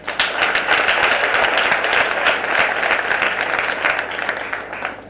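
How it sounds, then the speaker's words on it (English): Sustained applause from an audience at the launch of the Phahama Mining School of Specialisation, steady dense clapping that stays loud throughout and eases slightly near the end. "let's give her a round of applause"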